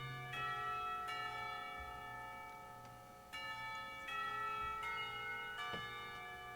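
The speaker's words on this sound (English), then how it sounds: "Not a minute too soon, the lunch bells ring." School lunch bells ring out in a visual novel game, several loud, sustained metallic bell strikes that overlap and decay in a steady chiming pattern, heard alone with no talk.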